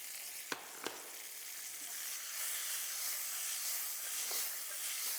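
Asparagus sizzling in garlic-flavored oil in a pan, a soft continuous frying hiss with two sharp clicks near the start, fairly quiet and steady, no talking.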